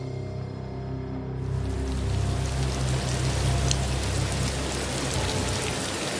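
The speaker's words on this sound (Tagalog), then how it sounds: "Malakas ang ulan." Heavy rain pours down at a bus terminal. A faint background suddenly swells into a loud, dense hiss of rain hitting surfaces, which continues steadily with a low rumble beneath it.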